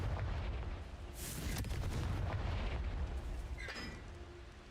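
The Confringo fire spell is cast in the Hogwarts Legacy video game, landing as a muffled booming burst with a crackling tail over a low rumbling background, fairly quiet overall.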